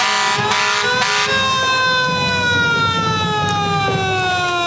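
A 1950 International fire engine of the Golden Spike Elks Club No. 719 blasts its loud, sustained horn and siren in a Pioneer Days street parade, with a few short honks at the start before one long, steady wail that gradually drops in pitch.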